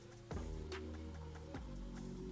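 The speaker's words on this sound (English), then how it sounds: "So I'm going to put some water in there." Water is poured into a container during a craft box build, making a brief, quiet splashing trickle with a few small drops. Nothing else is heard.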